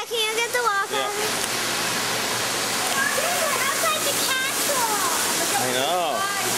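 An outdoor water fountain outside a castle-like shop splashes in a steady, loud rush throughout, while children and an adult talk over it.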